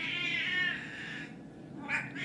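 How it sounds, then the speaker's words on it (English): A cat sitting in a home meows close by, a long wavering cry followed by a shorter call after a brief pause. "The cat has appeared."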